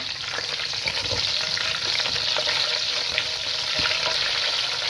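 Dry fruits fry in desi ghee, producing a dense, steady close sizzle with light crackles and faint stirring throughout, free of talk.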